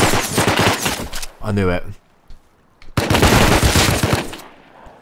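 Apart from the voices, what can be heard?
gunfire in the video game Rust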